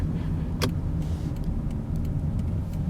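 A car driving along a quiet residential street in Norwich, Connecticut, its steady engine and road rumble filling the clip, with a few brief higher clicks or rattles near and no talking.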